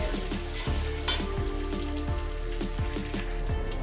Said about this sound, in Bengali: এবার এটাকে আমি সাত আট মিনিট ধরে কচুটাকে আমি ভাজব মিডিয়াম